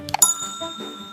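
A bright notification bell rings, a quick couple of metallic dings followed by a clear ringing tone that fades out, alone and fairly loud.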